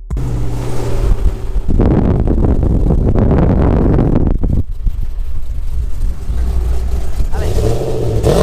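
A car engine revs hard and accelerates in a burst of roaring pulls at a street meet, heavy wind buffeting the microphone, then drops back to a low rumble before rising again near the end.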